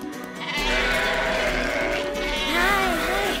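Sheep bleat in a farm setting, several wavering calls layered close together over a steady low rumble, fairly loud and near.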